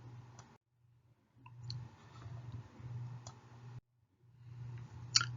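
A computer mouse clicks a publish button: a few faint, sharp clicks spaced apart over a low hum, with brief stretches of near silence between them.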